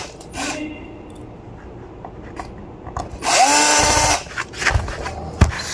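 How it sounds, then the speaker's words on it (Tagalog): A power drill drives two screws back into a dimmer switch cover for LED lights, whirring in short bursts with one longer run in the middle, close and loud, with clicks and handling noises between. "Balik po natin yung dalawang tornilyo nya."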